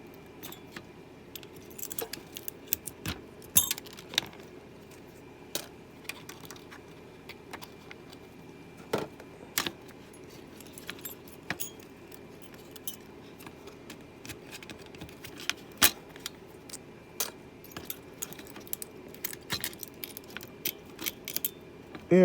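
Gold pins are being cut off e-waste circuit parts: sparse, sharp snips and light metallic clicks come at irregular intervals over quiet background hiss, close and faint, with no talking.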